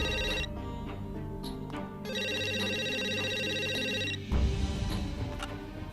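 A telephone rings in a repeating electronic ringtone pattern, loud and close, with bursts separated by short gaps over a musical background, with no talk.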